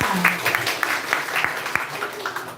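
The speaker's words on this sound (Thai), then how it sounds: "ปรบมือให้เพื ่อนด้วยค่ะ" A group in a classroom-style business session claps for a classmate, with scattered, uneven handclaps close by and voices heard alongside.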